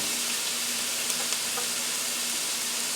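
Onions frying in a pan, a steady close sizzle with an even hiss throughout and no talking.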